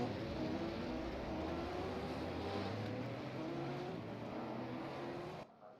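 Simulated race cars in rFactor 2 move off together on a formation lap, with a continuous, even engine drone that holds steady before cutting off abruptly at the end.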